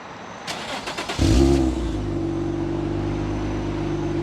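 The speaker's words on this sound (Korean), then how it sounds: "G35의 가변 배기음, 순정형 가변 배기음" A stock Infiniti G35 coupe (V35) with a factory variable exhaust starts up with a brief crank, then settles into a loud, deep, steady idle rumble heard up close.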